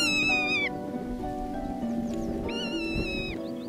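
A rough-legged buzzard calls, giving high, drawn-out mewing cries that sound like a lost kitten, one near the start and another past the middle, clear against a light outdoor background.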